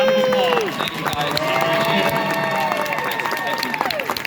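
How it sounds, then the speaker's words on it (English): A sustained, loud round of applause and cheers fills the room at an actor's Q&A panel at Mississippi Comic Con 2022 in Jackson, with voices talking over the clapping. "Let's give one big Jackson, Mississippi size round of applause."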